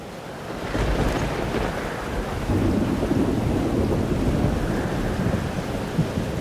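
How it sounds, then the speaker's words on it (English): A thunderstorm in Life is Strange: Double Exposure rumbles with low rolling thunder over steady rain and gusting wind, a dense continuous roar with no voices. "Weather's worse than I remember it. Storm followed me."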